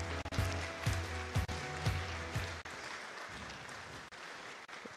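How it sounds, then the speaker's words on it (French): Audience applause at a conference on eating better and brain health, a dense steady patter of clapping from a crowd, broken by a few louder claps, continuing evenly for several seconds. "Je vous propose de les applaudir."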